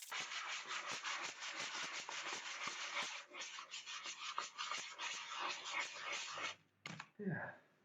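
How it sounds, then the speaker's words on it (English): Continuous scratchy sanding of a wooden skateboard deck, brisk repeated strokes, close up, ending with a few knocks and a short murmur. "I said I wasn't going to do too much sanding"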